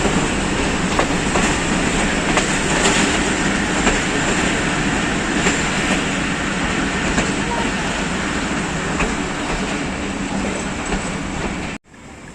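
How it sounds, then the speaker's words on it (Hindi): Kohat Express train pulling into Tarnol station in Pakistan, a loud continuous rumble and clatter of wheels and carriages close by, filling the whole stretch before cutting off abruptly near the end. "गोल उड़ाती हुई ट्रेन पहुंच गई है जी तरनोल"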